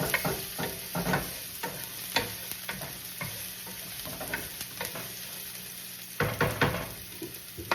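Garlic browns in a hot frying pan with a steady sizzle, broken by stirring scrapes and clinks at intervals for a Filipino chicken dish.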